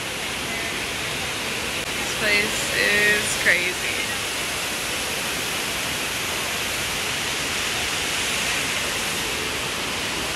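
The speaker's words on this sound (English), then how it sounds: "This huge waterfall." A huge indoor waterfall inside the Gaylord Opryland Hotel in Nashville roars as a steady, loud broadband wash, with a brief voice speaking over it early on.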